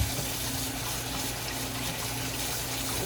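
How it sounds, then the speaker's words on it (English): Potatoes are rinsed under running water, a steady close gushing rush that keeps going unbroken for the whole few seconds, with nobody speaking. "rinse off so they're nice and clean"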